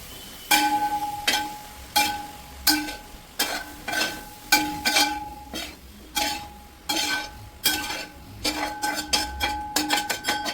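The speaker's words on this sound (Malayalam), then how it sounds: "നമുക്ക് ഈ മൂടി തുറന്ന് ഇതൊന്ന് ഇളക്കി യോജിപ്പിക്കാം." Soya chunks pepper roast is stirred in a pan with a metal spoon. It gives a steady series of sharp scraping clinks, about one per second, and the strokes quicken toward the end over a faint sizzle. No one speaks.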